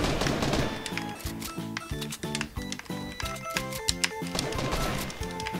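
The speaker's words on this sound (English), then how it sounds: "I hear gunshots." Rapid bursts of Fortnite gunfire crackle over a busy, layered mix of game sounds and music, with shots landing in quick clustered volleys.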